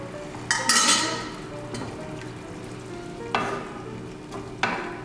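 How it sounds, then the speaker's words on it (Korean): Rigatoni cream pasta sauce with cream, pasta water, spinach and bacon bubbles and sizzles in a pan over medium heat, close by, as a few spoon scrapes and stirring clatters cut through the steady frying hiss. "중불에서 끓여줄게요."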